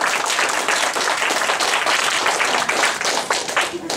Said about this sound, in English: we want to hear some loud cheering and applause